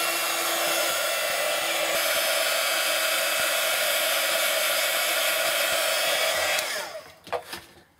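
A hair dryer blows on glued decoupage tissue paper, a loud, close, steady whirring hiss running continuously before switching off, winding down with a few clunks at the end.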